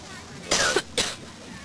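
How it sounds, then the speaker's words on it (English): A woman coughs twice in quick succession, two short harsh bursts close to the microphone, on a home recording made during a Walt Disney World trip while she was sick. "You have to get me coughing again."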